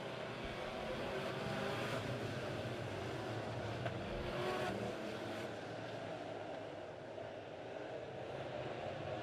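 Midwest Modified race cars roaring around the Lebanon Midway Speedway track after the green flag, a dense, continuous engine drone from several cars at middle distance with no talk over it.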